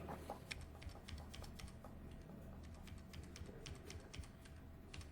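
Quick, irregular keystrokes on a computer keyboard enter a dummy value into an MS Access field, the light clicks close and clear over a faint background hum.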